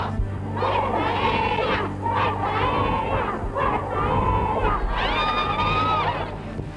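Officers' wives gather outside the Defense Ministry and shout slogans in support of their Air Force commander-in-chief, a massed crowd chanting in loud, rhythmic bursts of several syllables, rising to higher cheers at the end, outdoors.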